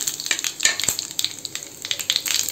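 Mustard seeds crackle and sizzle in hot oil while a tempering for chutney is prepared, with dense frying hiss broken by quick popping bursts throughout, close and steady with no talk.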